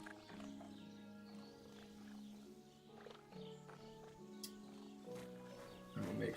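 Horse in the medieval game Kingdom Come: Deliverance II, with soft hoof clops and a brief whinny-like call rising over a steady bed of game music and ambience, moderately loud throughout.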